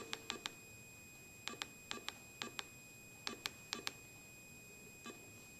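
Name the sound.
Whites Spectra V3i detector keypad beeps entering phone number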